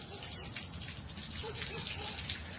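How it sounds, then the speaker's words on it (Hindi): Water gushes and spills steadily onto the ground at a sports complex in Greater Noida, a continuous close hiss and splatter with a voice talking faintly beneath it. "रोजाना हजारों लीटर जल ऐसे ही बर्बाद होता है।"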